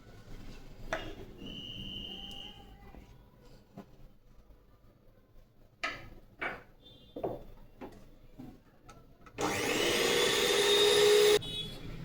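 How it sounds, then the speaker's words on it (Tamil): A blender mixes perfume into a natural kuppaimeni soap base, a loud whirring burst lasting about two seconds near the end, following quieter clicks and handling noises. "இந்த பர்ஃப்யூம் மிக்ஸ் ஆகிறதுக்காக வேண்டி கொஞ்ச நேரம் பிளெண்டர் போடணும்"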